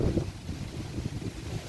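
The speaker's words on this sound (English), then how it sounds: "It's so windy out here," Strong outdoor wind buffets the microphone in continuous low, rumbling gusts, loud and close, with no speech over it.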